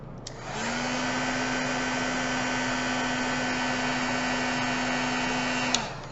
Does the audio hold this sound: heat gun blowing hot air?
yes